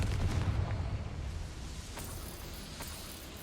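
A Confringo blasting spell explodes in Hogwarts Legacy, a deep booming blast at the start that rumbles and fades into a lingering low tail, with no voices.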